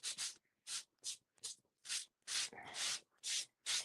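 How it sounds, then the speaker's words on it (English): Light hand sanding of two-tone craft paper with a white core, a series of short, soft, close scratchy rubbing strokes in an uneven rhythm, separated by brief quiet gaps. "this is the most fun sanding you'll ever have"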